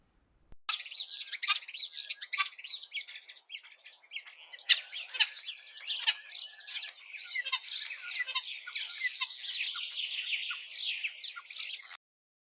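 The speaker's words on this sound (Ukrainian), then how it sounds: "шпак відомий і популярний із артистів серед птахів. Ось послухайте, дітки." A starling sings a continuous stream of chattering chirps, whistles and squawky notes, close and fairly loud, without pauses or other sounds.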